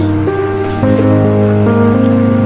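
Marinated chicken pieces for chicken korma sizzling in a pan, a steady close hiss and crackle that continues throughout, with tonal background sounds layered over it.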